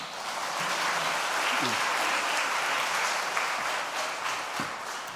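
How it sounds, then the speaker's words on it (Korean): A church congregation gives sustained applause to welcome a visiting pastor, a dense steady wash of many hands clapping that fills the room for the whole stretch, with faint voices underneath. "박수로 환영하겠습니다"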